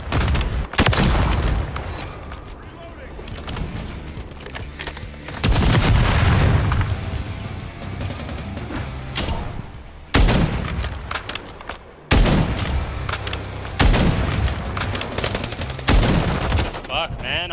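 Repeated gunfire bursts in the Call of Duty Black Ops 6 Zombies map Liberty Falls, loud rapid volleys broken by short pauses and heavier booms, with a voice talking intermittently between the shots.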